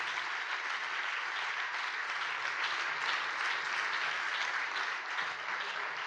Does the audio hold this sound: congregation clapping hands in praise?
yes